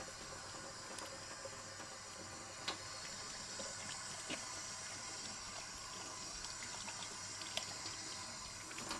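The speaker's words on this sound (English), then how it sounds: "Give my hands a quick wash." Tap water runs steadily into a workshop sink while hands are washed, a faint, even splashing hiss with a few small knocks and drips, heard alone at a distance.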